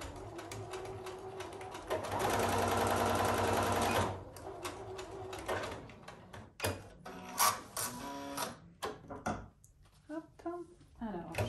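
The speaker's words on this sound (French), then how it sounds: "Et on va venir faire une couture ici à 1 cm." A sewing machine stitches a fabric seam for a Christmas stocking: a steady close mechanical whirr for about two seconds, then scattered clicks and short handling noises, with talking heard in the clip.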